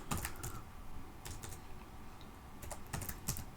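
Java code being typed on a computer keyboard: close, crisp clusters of key clicks arriving in quick bursts with short pauses between them, no voices.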